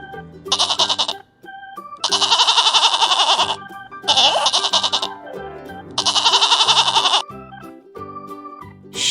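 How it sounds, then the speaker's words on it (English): Farm goat bleating loudly and close in four long, wavering calls separated by short pauses, with soft tonal sounds in the gaps. "Goat. It gives milk and meat."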